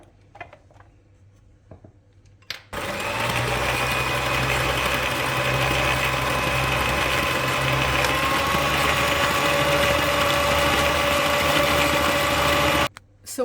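An electric hand mixer whisking funfetti cupcake batter with vanilla, starting abruptly and holding a loud, steady motor whine for about ten seconds before cutting off, after a few quiet clicks.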